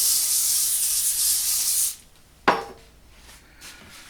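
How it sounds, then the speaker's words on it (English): Cooking spray hisses steadily onto a baking pan for about two seconds, close and fairly loud, followed by a short metallic clunk of the pan being handled. "Be sure and spray your pan"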